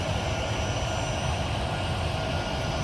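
A Delta MD-80 "Mad Dog" jet airliner, its engines giving a steady, loud, broad roar with a high whine, continuous and without talk.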